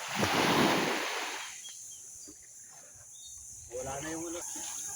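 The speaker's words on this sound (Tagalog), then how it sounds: "lakas ng alon" Strong Pacific Ocean surf crashes in a loud wash at the start and fades into a steady roar with wind noise, while a voice speaks faintly toward the end.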